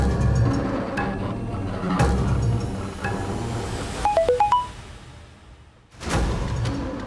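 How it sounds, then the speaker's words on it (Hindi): A mobile phone ringtone chimes in a short rising melodic run over a busy room noise, in a tense crime drama scene. "किसका मोबाइल बजा?"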